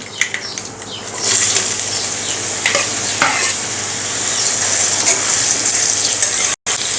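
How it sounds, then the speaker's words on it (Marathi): Raw mango pieces dropped into a hot fenugreek-seed tempering, a low stir at first, then a loud, steady sizzle that swells and holds for several seconds. "आता आपण यामध्ये घालूयात या कैरीच्या फोडी"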